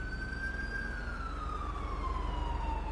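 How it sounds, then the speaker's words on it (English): A single police siren in the video game Dept. of Justice Cops wails with a slowly falling pitch, moderately loud and steady over a low engine drone, heard alone without talk. "the sirens got hella quiet"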